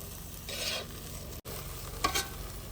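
A spoon scrapes through a thick coriander filling for Maharashtrian masvadi in a pan in two short bursts over a low steady hiss, with a brief dropout midway.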